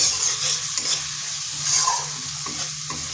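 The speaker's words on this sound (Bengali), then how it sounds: "লঙ্কার গুঁড়ো আর হলুদ গুঁড়ো। মশলাটা ভালো করে কষিয়ে নিচ্ছি" Chili, turmeric, cumin and coriander powder spice mix with a splash of water being stir-fried in a pan for an eggplant and chana dal dish: a steady close hiss of sizzling with rhythmic scraping strokes of a spatula.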